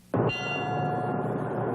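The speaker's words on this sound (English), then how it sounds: "a bell tolled a ceremonial last alarm that represents the loss of a firefighter" A single ceremonial bell struck as a last alarm at a firefighter's memorial rings out once, loud and clear, then hums on in a long, steady, sustained tone.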